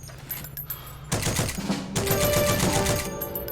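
A Maxim Tokarev MT machine gun fires in the video game Heroes and Generals in rapid, rattling bursts: a short volley first, then a louder sustained stream of shots after a brief gap, close and dominant.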